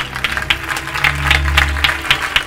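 Audience applause at a talk in Barcelona, a dense patter of many hands clapping together, steady and fairly loud across the whole moment, with no voices over it.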